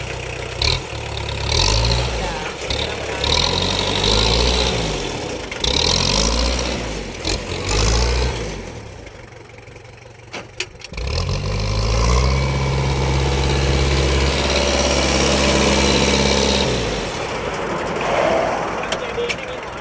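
A single-axle Kubota L3001 tractor engine runs steadily at close range with a loud, low, throbbing rumble that pulses and changes pitch. Someone talks over it at times, and the engine dips briefly near the middle.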